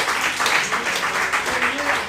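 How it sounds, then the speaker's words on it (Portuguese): A church congregation in Rio de Janeiro claps for the Lord during a Portuguese-language worship service, a steady wash of hand claps at moderate volume, with voices mixed into the sound. "Aplauda o Senhor, seu melhor."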